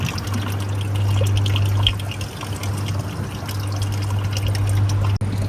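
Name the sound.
water flow from solar powered pond pump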